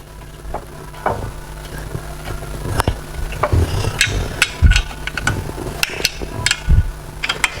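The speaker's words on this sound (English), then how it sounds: "Now let me remove our flywheel and the clutch." Hand tools working on an engine as the flywheel and clutch are taken off, a series of close metallic clanks, ratchet clicks and knocks in an irregular rhythm.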